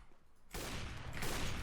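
Gunfire in a competitive CS:GO match bursts in abruptly after a quiet half-second and continues as a loud, dense volley of rapid shots to the end.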